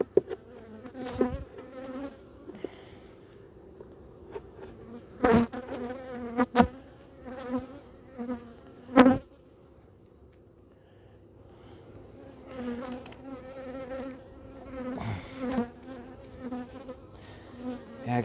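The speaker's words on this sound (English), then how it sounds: "I got these bees from the other hive still buzzing around my face" Agitated honeybees from a hive buzz close around a beekeeper's face during a hive inspection, a steady droning hum that rises and fades as bees fly past, broken by several sharp knocks and rustles.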